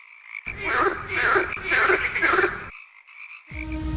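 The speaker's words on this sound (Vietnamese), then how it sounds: "Frog." A frog croaks in several loud, close bursts of raspy calls, separated by short silences, with a different tonal sound cutting in at the end.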